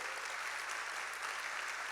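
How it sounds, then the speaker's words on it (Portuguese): Steady applause from a church congregation at a Portuguese evangelical youth night, dense and even, moderately distant with no voices over it. "Quem está feliz, dá uma salva de palmas para Jesus."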